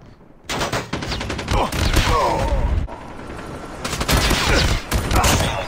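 Rapid gunfire in the Call of Duty video game, with dense overlapping bursts of automatic fire that stay loud and nearly continuous, with only brief lulls.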